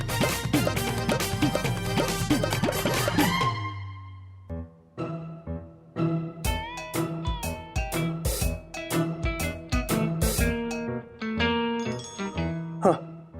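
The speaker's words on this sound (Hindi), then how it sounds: "फोन बज रहा आपका।" A mobile phone rings in a comedy sitcom scene, giving a bright, jingly melodic ringtone of repeated chiming notes. It follows a dense burst of music and a short pause, and keeps going to the end.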